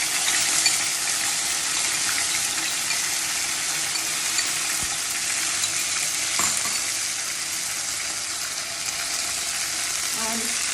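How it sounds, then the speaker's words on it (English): Ground spice paste with nigella seeds fries in hot oil in a pan, a steady, fairly quiet sizzle. There are occasional faint clinks and stirs and no talk. "Fry the masala well."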